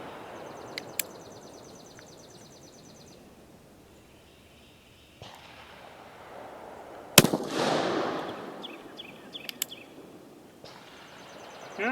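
Uberti 1847 Walker revolver firing heavy Dragoon bullets outdoors: one sharp, loud gunshot with a ringing tail, set against a steady background of birds and insects, with a few faint clicks around it.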